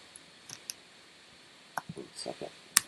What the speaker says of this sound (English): all I'm typing here in the Google Doc is